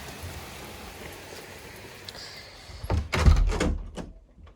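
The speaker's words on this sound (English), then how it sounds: "Look at that rain." Heavy rain pours outside a house doorway, a steady soft hiss, then a door bumps and thuds loudly near the end as it is handled.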